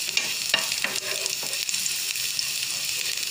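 Oil sizzles and crackles steadily as small pieces of garlic fry in leftover ghee in a pan, with occasional stirring scrapes and no talking.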